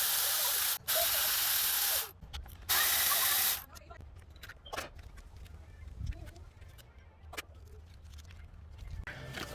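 A ratchet works loose glow plugs on a 2008 Isuzu NPR engine, with bursts of loud hiss at the start followed by scattered clicks and metallic rattles, close and without speech.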